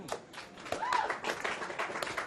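A short burst of audience clapping greets the final table players at the PCA 2015 Super High Roller poker event, brisk and fairly close, lasting just a couple of seconds.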